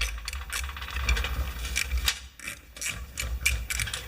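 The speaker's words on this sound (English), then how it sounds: "So now I'm taking the bolts off the inside of this piece." Bolts are removed from a Mastercraft MTD snowblower drive system with a ratchet, giving rapid close clicking in short bursts, with brief metallic rubbing between strokes.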